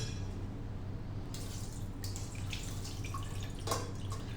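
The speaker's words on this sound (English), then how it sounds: "we will wash this with clean water" Running water splashes and trickles steadily in a sink, rinsing fresh chhena curds, with a few soft clinks and drips over the constant flow.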